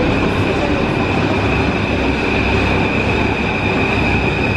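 A Paris metro train rumbles loudly and continuously from close by, with a steady high whine running through the noise of the wheels.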